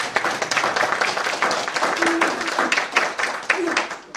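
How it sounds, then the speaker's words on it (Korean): A church congregation at a special prayer meeting claps in thanks, a dense run of close, sharp hand claps with a slightly uneven rhythm, carrying on steadily for a few seconds without talk. "감사 박수 한번 드립니다"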